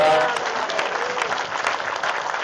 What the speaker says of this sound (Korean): 큰 박수로 한번 영광 드립니다.